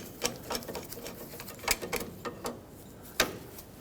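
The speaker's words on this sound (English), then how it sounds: "In our case, I'm going to simply use a pair of these pliers here." Pliers working on a tie rod jam nut of a 2007-2017 Jeep Patriot during outer tie rod replacement, giving a series of sharp metallic clicks and ratcheting ticks at an uneven rhythm, close by and fairly quiet, with no talking.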